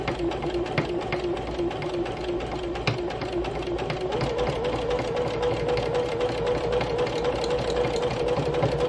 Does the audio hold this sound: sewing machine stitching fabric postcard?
yes